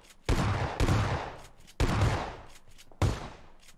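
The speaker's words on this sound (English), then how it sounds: "Okay, someone is shooting at us." Gunfire in the PUBG Mobile battle royale game: four sharp, loud shots or short bursts, spaced irregularly, each with a decaying tail, and no talk over them.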